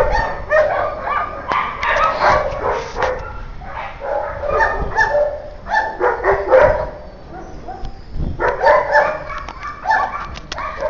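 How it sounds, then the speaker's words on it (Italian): An adopted dog yips, whimpers and barks repeatedly at close range, a busy, continuous stretch of high-pitched vocalizing with little pause. "Questo è il cane"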